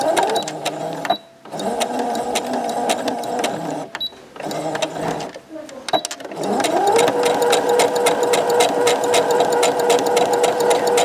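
A sewing machine stitches a straight seam along the second side of a fabric tote bag with bright fluorescent yellow thread. A loud, steady motor whir runs in bursts with brief stops, the last run long and unbroken.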